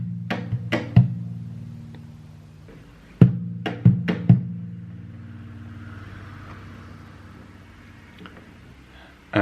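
Percussive acoustic guitar beat, played on a guitar without banjo tuners, alternating body-thumped bass hits and sharp hi-hat taps in a short uneven pattern, then a quiet ringing tail.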